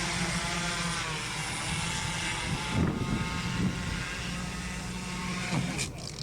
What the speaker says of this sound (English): What kind of drone is that?